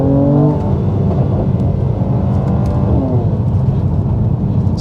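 A 400 hp Mercedes C43 AMG in manual mode downshifting, a loud, close engine blip that drops in pitch and then settles into a throaty rumble, heard outdoors among trees.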